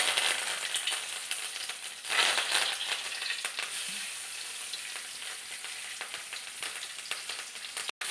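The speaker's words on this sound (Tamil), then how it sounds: "இப்போ நம்ம எண்ணெய் சூடு ஏறிச்சு, கடுகு போட்டுக்கலாம்." Mustard seeds and curry leaves sizzle in hot oil for a home-cooked pumpkin dish, giving a steady crackling fry with a few sharper spitting bursts. The sound is close and continuous for about eight seconds, with no voices.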